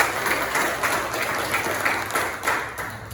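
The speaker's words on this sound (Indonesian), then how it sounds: "Tepuk tangan untuk Gisel." Students in a classroom clap together in a short burst of applause, the quick claps rising and falling in bunches for a few seconds.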